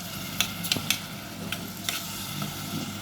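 Onions sauté in a pan with a soft steady sizzle, broken by several sharp scraping clicks as a utensil stirs and knocks against the metal; no speech.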